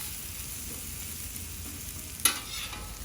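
Potatoes fry on a griddle with a soft, steady close sizzle throughout. A single brief clink of a utensil sounds near the end, and no one speaks.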